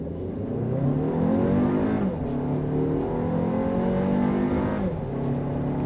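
A 2020 Audi Q3 small luxury SUV in dynamic mode launches hard from a standstill, its engine climbing loudly through rising revs with two gear shifts breaking the pull, close and steady without talk.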